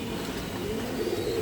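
Pigeons cooing in a soft, steady, low murmur that continues through the whole moment, close by, with no talking over it.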